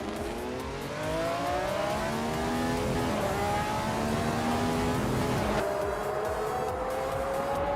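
Racing cars in a video game, among them a Brabham BT3-4, engines whining at high revs with rising and falling pitch as several cars pass, loud and continuous with no talk.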